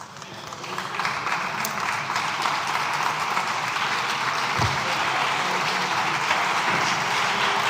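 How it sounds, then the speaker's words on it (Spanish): Applause swells in the Spanish parliament chamber, many deputies clapping in a steady, sustained roar that builds within the first second and holds evenly, with a couple of dull knocks underneath. "Yo creo que deberíamos dar un aplauso."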